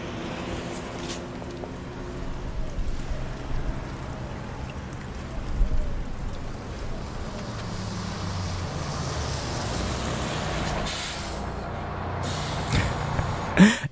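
A bus in an animated short film pulls up with a hiss of air brakes, its engine rumbling and changing pitch amid rain and traffic noise, with speech-like sounds faintly present.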